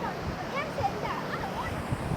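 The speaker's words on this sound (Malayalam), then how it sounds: "കടലിൻ്റെ ആ ഒരു അല വന്നടിക്കണ നല്ല സൗണ്ടൊക്കെ" Sea waves wash in as a continuous broadband roar of surf, steady and fairly close, with wind noise over the microphone and faint voices in the background.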